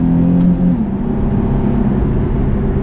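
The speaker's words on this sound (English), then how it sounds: "The downshift is brutal and it's seamless too." A 2010 Nissan 370Z Touring's engine holds a loud, steady drone heard from close up, with a short dip and shift in pitch early on as it downshifts and revs.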